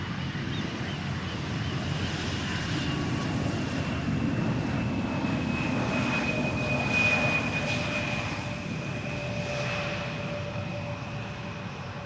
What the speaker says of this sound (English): Chinese triple is on the glide slope for runway 27